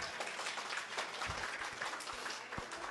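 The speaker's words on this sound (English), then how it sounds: "Now you can clap for Claire because she's special." An audience claps at an honors ceremony, a soft, fairly distant patter of applause that holds steady throughout, with a few louder nearby claps and thumps.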